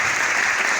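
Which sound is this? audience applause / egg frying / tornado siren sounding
audience applause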